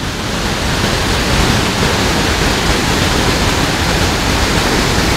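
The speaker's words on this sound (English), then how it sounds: "This the Draysap waterfall, one big one in Central Highland in Vietnam." Draysap waterfall in Vietnam's Central Highlands: a steady, loud, broadband roar of falling water that holds unbroken throughout, with no voices over it.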